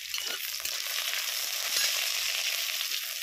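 Panch phoron spices and onion fry in hot oil, a steady loud sizzle with faint stirring scrapes running throughout, close and alone.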